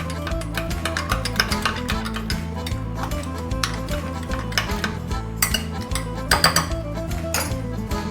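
A spoon stirring a sugar and yeast mixture in a metal bowl, with rapid, continuous clinking and scraping against the sides throughout, close and fairly loud.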